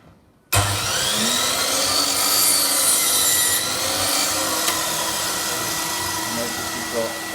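DeWalt mitre saw making a standard 90-degree cut through timber, starting abruptly as a loud sustained whine and grinding drone that holds steady, then eases slightly toward the end.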